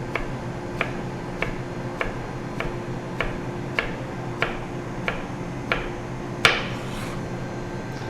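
A chef's knife chops vegetables into small regular macédoine cubes on a cutting board, a series of crisp close taps at a steady pace of roughly one every half second or so, with one sharper knock near the end.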